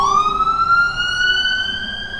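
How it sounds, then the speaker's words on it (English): An ambulance siren screams past on a street, one long loud rising wail with strong harmonics that stays close and steady throughout, with no talking. "you get ambulances, screaming by"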